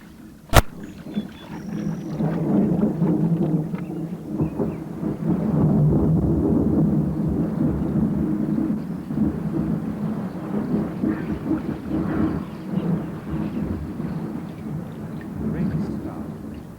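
Deep rolling thunder in a torrential rainstorm, a long low rumble swelling and fading for many seconds after a sharp opening crack, with a voice narrating over it.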